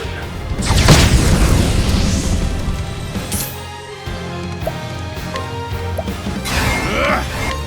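Fire attack spell in Octopath Traveler II erupts with a heavy boom and crackling burst, followed by smaller whooshing and impact hits, with battle music underneath.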